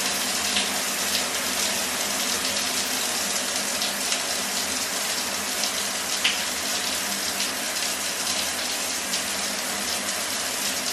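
Water runs steadily from a morning shower, a constant hissing spray that stays even and unbroken throughout with no voices.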